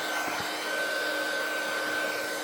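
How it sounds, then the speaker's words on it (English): A heat gun blows hot air to melt Cosmic Shimmer on black cardstock, a steady, even whoosh with a constant whine that stays level the whole time. "next I'm coming in with my heat gun"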